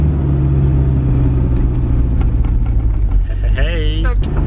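A lifted minivan's engine idles high at around 2000 RPM with a misfire, a steady loud low rumble that continues throughout, with a voice speaking over it near the end.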